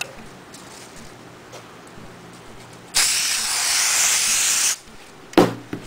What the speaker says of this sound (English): you have to then glue it with this spray glue